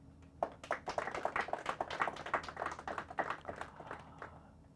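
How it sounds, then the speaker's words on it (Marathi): Audience clapping to welcome a school team at a Marathi quiz competition semi-final, a steady burst of many hands lasting a few seconds, moderately distant and fading at the end. "टाळ्या वाजून आम्ही त्यांचं स्वागत करत आहोत."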